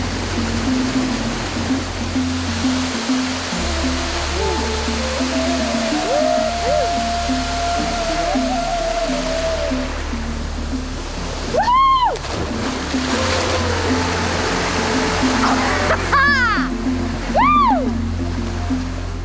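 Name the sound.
waterfall at Embera village, Panama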